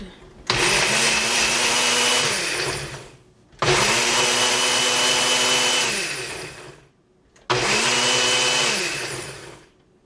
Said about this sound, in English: Alright, so I'm going to put it in the Ninja blender